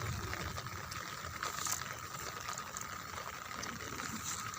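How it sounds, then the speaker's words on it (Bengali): Floodwater drains off a flooded cauliflower and cabbage field in a soft, continuous rush and trickle that holds steady and fairly faint throughout. "দেখুন কি হারে জল নামছে জমির থেকে।"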